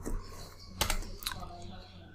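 Fingers type on a computer keyboard in a short burst of a few quick clicks, with a couple of sharper key strikes standing out against faint room noise.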